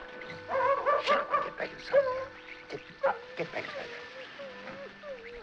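A dog in The Blob (1958) yips and whimpers in a string of short, high cries, mixed with other film sound and some talk.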